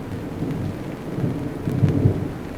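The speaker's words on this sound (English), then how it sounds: "But lightning just struck here" Low thunder rumbles through a steady rainstorm in Florida, a deep rolling boom that swells and fades over continuous rain, with no voices.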